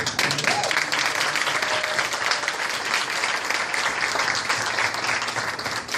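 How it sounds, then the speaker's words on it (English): Steady applause from an audience at a kindergarten celebration, honoring the staff who work with the children, holding at an even loudness throughout with a faint voice briefly under the clapping. "I do want to give a round of applause to our staff that has been working with the children"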